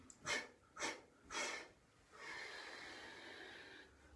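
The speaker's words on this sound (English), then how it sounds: "you're breathing in, coming up, and exhaling it" Three sharp nasal breaths during a chi kung breathing exercise, each a short rhythmic puff, followed by one long steady exhale, close and quiet with no talk.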